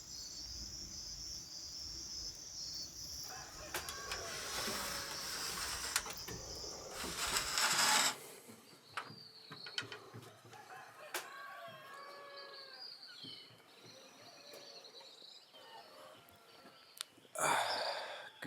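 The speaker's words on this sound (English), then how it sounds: "I just woke up because of the roosters." Roosters crowing at dawn around six in the morning, several calls from different birds at mid distance over a steady chorus of crickets and insects, with no talking.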